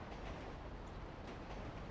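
A train rolls past in GTA 5, a dense, steady rumble of wheels and cars that stays loud and continuous throughout with no voices over it.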